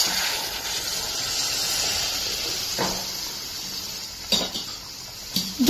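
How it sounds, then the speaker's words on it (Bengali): Hot water is poured into a pan of cooking Kashmiri dum aloo gravy, making a steady hissing, sizzling pour followed by a few light clinks of utensils against the pot, close up. "আমি এবার এর মধ্যে দিয়ে দেব জল গরমটা।"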